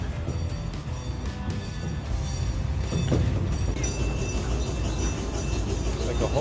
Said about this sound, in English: The little train's gonna come by.